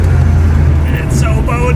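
A supercharged Volvo 245 engine runs with a loud, steady low drone, close up, while voices talk over it.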